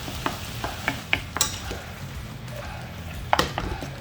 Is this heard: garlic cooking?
yes